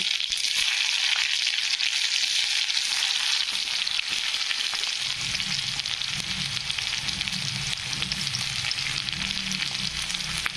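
Onion fries in hot oil with mustard seeds and cumin, giving a loud, dense, continuous sizzle close up; a low rumble joins partway through, and no one speaks.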